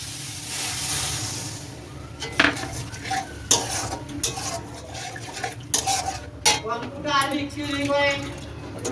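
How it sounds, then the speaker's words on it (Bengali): Water goes into a hot pan of fried bhetki fish bones, bringing a steady hiss and sizzle with scattered clinks of a metal spoon against the pan. "ভাজা ভাজা একদম হয়ে গেছে। এবার আমি জল দিয়ে দেবো।"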